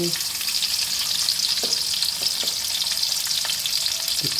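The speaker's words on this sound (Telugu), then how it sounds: "పచ్చిమిర్చి, కొద్దిగా ఫ్రై చేద్దామండి" Green chillies fry in a hot pan with a steady, close hiss and sizzle, broken by the scrape and clink of stirring, with no talking.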